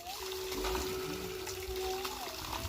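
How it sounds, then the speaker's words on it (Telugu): Water gushes steadily from a farm borewell pump after a long wait, a continuous splashing, trickling wash with a faint tonal whine beneath it and no pauses. "వాటర్ పోస్తానే ఉన్నా వస్తానే ఉన్నాయి కాకపోతే ఫైనల్గా వచ్చినాయి అనమాట వాటర్"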